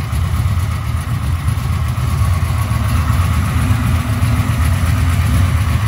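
1996 LT1 V8 engine fitted with Holley Terminator X idling on a test stand, a loud, steady low rumble with a lumpy, loping rhythm, close and continuous.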